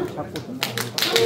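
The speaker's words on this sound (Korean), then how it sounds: "여러분, 아까 5분 말고 1초만 박수로 네, 시작을 알려주시기 바랍니다." A brief burst of clapping from the audience opens a literary award ceremony at a knowledge-forum New Year event in a district hall. A few sharp claps come near the end of the moment, with voices around them.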